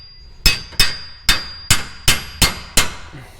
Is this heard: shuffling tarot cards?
no